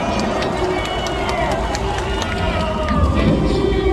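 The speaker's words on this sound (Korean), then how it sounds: "격려 박수 부탁드립니다." Large crowd at an outdoor political rally in Seoul roars with scattered clapping and overlapping voices, a loud, continuous wash of crowd noise.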